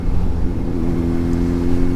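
A Kawasaki Z H2 motorcycle with a Scorpion exhaust, baffle removed, drones loud and close and rises in a rough, steady rev with a throaty rumble.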